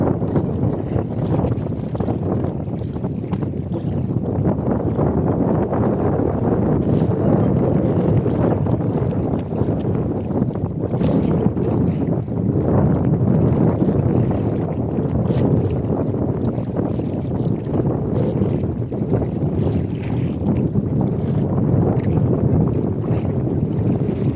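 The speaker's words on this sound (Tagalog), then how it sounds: "Malakas na masyado ang hangin." Strong wind buffets a fishing boat at sea with heavy waves, a loud, constant roaring rush with gusty flutters against the microphone that never lets up, with no voices over it.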